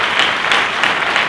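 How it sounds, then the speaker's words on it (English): A brief burst of dense applause fills a lecture hall as an audience claps for reentry partners at a lobby day event, loud and steady throughout. "I'd like to give them a round of applause as well."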